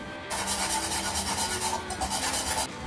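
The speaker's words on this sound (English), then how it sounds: "Now we're just going to grate in 2 cloves of garlic." Two garlic cloves rubbed over a grater for orange chicken, a steady close rasping scrape that runs continuously for a couple of seconds without speech.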